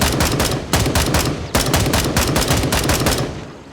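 Rapid automatic rifle fire in the combat video game Gray Zone Warfare, a loud close burst of repeated shots that pauses briefly near the middle before a second sustained burst, then cuts off into a short echoing tail.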